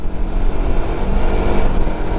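A SINNIS Terrain 380 motorcycle engine running steadily as it accelerates through the upper gears, a loud, continuous low drone mixed with wind rush and no voices.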